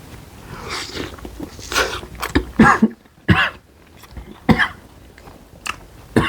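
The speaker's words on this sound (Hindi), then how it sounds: "तभी मुझे खांसी आ रही है।" Someone coughs and clears their throat repeatedly after eating chicken with spicy green chilli chutney from a barbecue meal box, with several sharp, close coughs spaced irregularly between quieter throaty breaths and chewing sounds.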